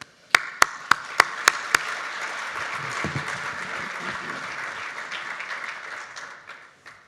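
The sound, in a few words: audience applause welcoming a speaker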